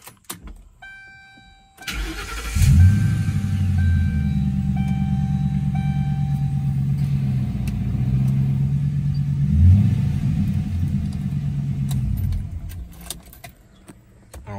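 Keys jingle, then a 2010 MGM car engine with Cherry Bomb exhaust cranks and starts with a deep rumbling exhaust, idling loudly with a couple of throaty revs before settling.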